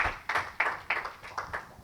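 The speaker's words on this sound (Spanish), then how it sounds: "Dale un aplauso al Señor, hermano." A church congregation claps in a series of sharp, evenly spaced bursts, about six rhythmic claps close by and moderately loud, with no talking over them.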